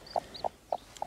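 A hen clucks four times in short, evenly spaced bursts, close and clear, with faint background noise and no talking.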